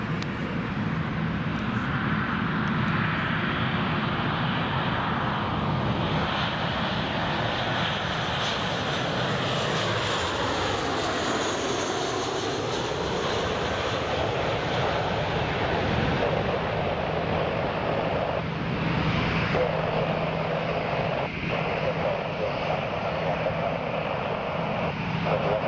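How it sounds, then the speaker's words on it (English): An aircraft landing at Newcastle International Airport gives a loud, sustained engine roar with a sweeping pitch as it passes, heard from a distance that draws near, then fading toward the end. "One of the best landings I've seen today."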